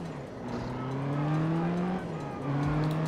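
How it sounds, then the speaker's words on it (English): Car drifting in the racing game Juiced, with engine roar and a sustained tire squeal that rises in pitch, breaks off briefly, then resumes, loud and close. "so let's get that drift"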